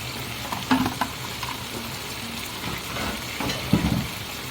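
Catfish stir-frying in a pan with chili and tamarind, a steady sizzle broken by a few louder scraping stirs near the start and end, with no talk.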